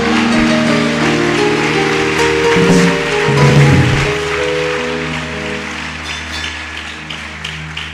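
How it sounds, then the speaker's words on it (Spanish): A church congregation claps together, a thick rain-like patter of hands over sustained band music that swells briefly midway, then slowly thins out. "Denle un aplauso a Jesús"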